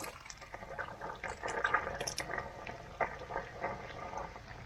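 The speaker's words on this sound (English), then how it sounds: "water's being pushed out right now by the air." Air forces water out of an outdoor hose bib on a house being winterized, making sputtering, gurgling spurts and drips in an irregular rhythm, close and fairly quiet.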